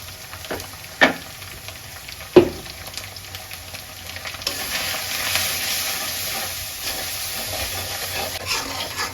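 Garam masala, cardamom, cumin, cinnamon, turmeric, chili powder and salt fry and get stirred in a pan in a village kitchen, giving a steady close sizzle with a couple of sharp knocks from the utensil early on.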